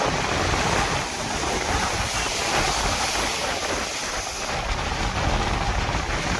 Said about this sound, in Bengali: আবার বড় ঢেউ আসছে, বড় ঢেউ আসছে।